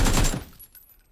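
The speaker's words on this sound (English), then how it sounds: "Someone's shooting the guy outside." Rapid burst of gunfire from a show, loud and dense at the start then quickly fading into faint echoes, with no talking over it.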